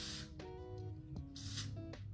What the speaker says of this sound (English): Spray the adhesive.